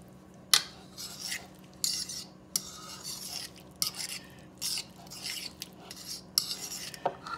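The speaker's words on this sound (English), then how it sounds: "I'll just take a fork and gently mix it all together" A fork gently mixing avocado salsa in a bowl, giving soft scraping stirs with sharp little clinks against the bowl recurring every second or so, quiet and close with no talking.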